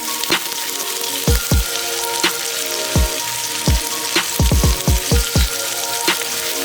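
Onions frying in hot oil with ginger garlic paste for pilau, a steady loud sizzle broken by repeated sharp clinks of a spoon or spatula against the pot, with no talking.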